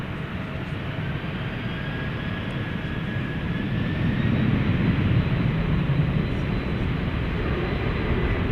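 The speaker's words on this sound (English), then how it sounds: "So I think this will be flight 767 UPS getting ready to lift off here" Aircraft taking off at night at DFW Airport, a steady broad engine roar that holds throughout and swells slightly louder midway, with a faint tonal whine riding above.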